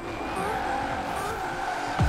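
Car drifting through a corner in a racing video game with rally tuning, engine drone steady throughout as tires squeal and slide, ending in a sharp low burst.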